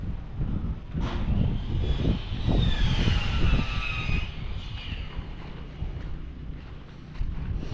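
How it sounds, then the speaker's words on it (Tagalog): Strong outdoor wind roars and buffets the microphone in gusts, with low rumbling surges and a faint whistling tone, continuous and loud over several seconds. "lakas ng hangin eh"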